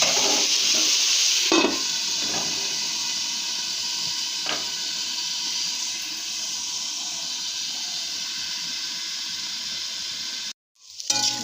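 Mixed vegetables with salt and turmeric frying in a covered pan give off a steady, close hiss of sizzling and steam, with a few clatters near the start and a short drop to quiet near the end.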